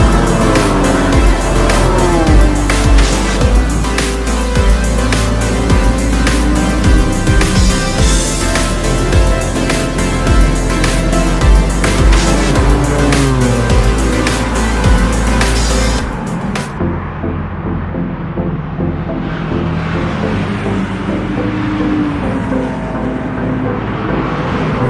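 Cars lap the Hockenheimring race track in Germany during a track day, with loud, close engine roar rising and falling through gear changes before the sound thins out near the end.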